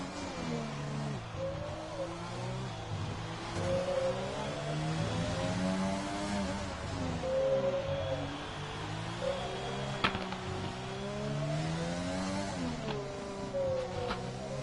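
An AlphaTauri Formula One car in a Singapore racing video game, pushed hard around the street circuit, its engine droning and rising and falling steadily through gear changes, close and continuous with no talk.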